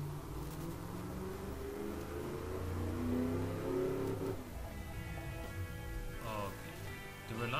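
A 1965 muscle car's 6.0 engine in the game Automation revs up in a long, buzzing climb, then drops and rises again in quick pitch sweeps, fairly steady and moderately loud.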